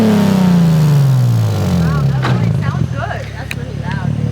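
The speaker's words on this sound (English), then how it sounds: "Rev it up, rev it up, rev it up." Close, loud revving from the VQ engine of a Nissan G35 or 350Z on a cheap exhaust, the pitch falling as the revs drop, while voices shout over it in the later part.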